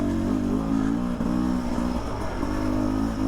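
A 2021 Beta 300 RR two-stroke dirt bike fitted with an FMF Turbine Core Forest Service approved silencer idles and blips its throttle nearby, a steady buzzing engine tone with slight rises and dips, no talk.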